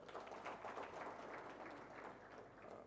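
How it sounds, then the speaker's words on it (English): Applause from an audience at a health program learning event, a dense patter of many hands clapping. It is faint and steady for a few seconds. "let's clap for them"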